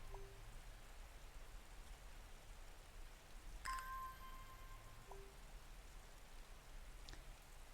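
Soft, steady rain falls over a village in the video game Strange Horticulture, a faint continuous patter with a brief tone chiming partway through.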